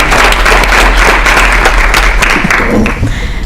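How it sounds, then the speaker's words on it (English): Applause from the audience at a board meeting, a steady dense clapping that fills the room for several seconds at close range, with no voices over it. "We'll give you a round of applause as well."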